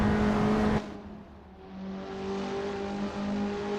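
An Abarth 500 race car engine in Assetto Corsa, racing at Prague, roars loudly then drops off abruptly before a steady droning whine builds back up, with no talk.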